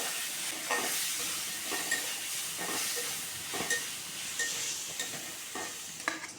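Spices frying in oil in a pan for chicken noodles make a constant close hissing sizzle, broken now and then by soft stirring scrapes.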